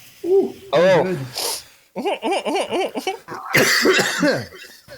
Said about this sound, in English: Just an hour podcast of us coughing.